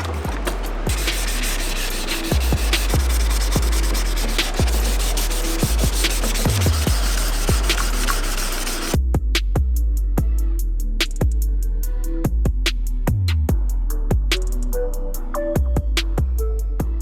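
Sanding of clear coat on a custom carbon fiber dash for a Hilux, with rhythmic back-and-forth rubbing strokes, harsh and dense at first, then lighter, sparser strokes, close and alone.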